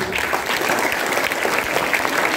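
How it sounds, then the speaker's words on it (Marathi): An audience at a school-level book exhibition event claps loudly, with continuous, dense applause from many hands filling the hall. "तुमचा जोरदार टाळ्या तुमच्या सगळ्यांसाठी."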